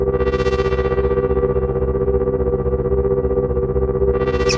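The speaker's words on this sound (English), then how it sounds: "Let's add some reverb." A 1010music Lemondrop synthesizer plays a sustained electronic drone with reverb added, a loud steady harmonic tone with a shimmering upper wash that swells and fades, heard alone without voices.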